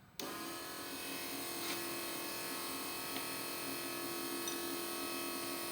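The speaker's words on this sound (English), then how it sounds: "So first we'll fire the pump, we'll check the PSI." Electric fuel pump switching on and running steadily while building pressure, a constant whining hum with a sharp start and faint clicks partway through, with no voices.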